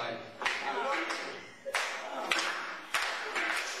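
Crowd at a live wrestling show clapping in several bursts, loud and close, with broadband claps and thumps swelling and fading in waves.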